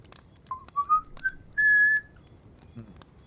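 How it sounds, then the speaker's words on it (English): A person whistles a short rising tune in the middle of the night, a few brief notes followed by one longer held tone, clear and fairly close over a low background rumble. "but you hear whistling"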